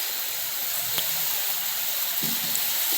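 Steady hiss and gentle bubbling of chicken gravy simmering in a kadhai after water has been added, with one sharp tap against the pan partway through.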